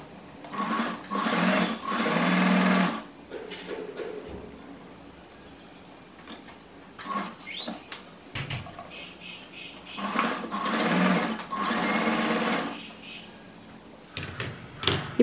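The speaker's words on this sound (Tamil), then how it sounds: "ஸோ இப்போ நான் இந்த லைன்ஸ் எல்லாத்தையுமே நான் ஒரே இதில் ஸ்ட்ரெச்சில் தச்சிட போகிறேன்" A sewing machine stitches cloth for a star-block table mat made from waste fabric, running in several long bursts with quiet gaps between them. A voice talks faintly in the pauses.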